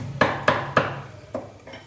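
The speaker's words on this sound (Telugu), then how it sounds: "ఈ జీలకర్ర, ఈ వెల్లుల్లిపాయలు చక్కగా ఈ గిన్నెలో వేసి మరి కచ్చా బచ్చాగా దంచేస్తానండి" Five sharp pounding thuds in a steady rhythm, close and loud, as cumin and garlic are pounded in a bowl.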